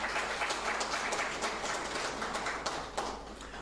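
A crowd applauds the president at a formal gathering, dense steady clapping filling the room for the whole stretch with no voices over it.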